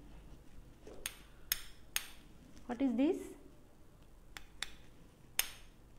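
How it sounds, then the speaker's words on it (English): A hammer strikes a block of ice in a classroom demonstration, several sharp cracking knocks spread out over a few seconds, with a short scraping crunch in the middle under faint room noise. "I break down by the hammer."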